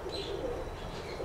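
A large pigeon gives a faint, brief, low coo, heard softly for just over a second against quiet background noise.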